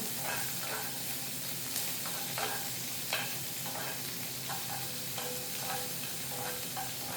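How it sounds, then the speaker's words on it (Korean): Seven cloves of garlic stir-fry in a hot pan for spicy anchovy stir-fry, giving a loud, steady hissing sizzle with intermittent scraping stirs close up. "마늘이 한 7알 마늘하고 같이 볶읍시다 그냥"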